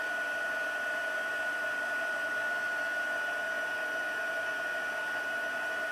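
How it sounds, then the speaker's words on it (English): A heat tool blows steadily at close range while melting embossing powder, a constant fan-like whoosh with a faint tonal hum and no change throughout. "let's get our heat tool"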